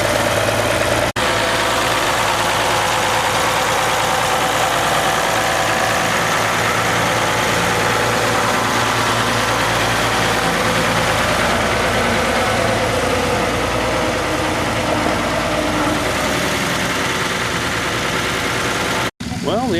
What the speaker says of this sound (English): Beautiful ride, beautiful tractor.